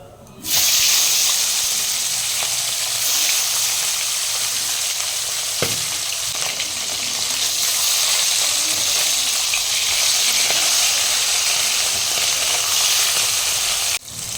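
Pomfret fish frying in hot oil in a wok, a loud, dense, steady hiss and crackle that runs close for the whole stretch, with a brief knock partway through and no talking.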